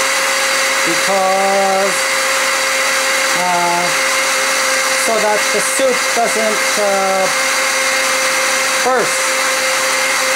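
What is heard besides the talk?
blender blending hot squash soup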